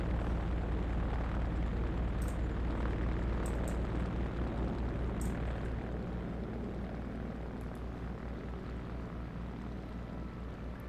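Anti-aircraft guns firing during a strategic bombing run in Company of Heroes 3, a dense, continuous rumble of flak bursts and aircraft engine drone, with sharp thuds scattered throughout at steady loudness.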